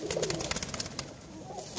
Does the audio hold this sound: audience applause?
no